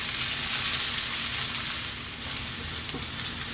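Ginger sautéing in a pan for a Filipino sardines and kangkong dish, a loud, dense and continuous sizzle of hot oil that holds steady from start to finish without any talking.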